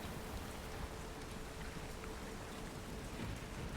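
Steady rain falls in a dense, even hiss, soft and distant, with no voices or other sounds.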